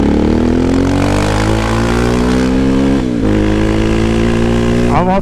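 Honda XR Tornado motorcycle fitted with a Belparts Classic exhaust, its engine droning loud and steady close by, a brief dip near the end as revs shift, with faint pops and burble under the continuous note.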